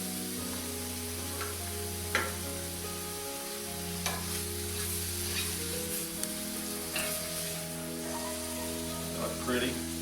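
Pasta in vodka sauce heating in a pan, a steady soft sizzle and frying hiss throughout with occasional stirring clinks, close and quiet, under a low steady hum.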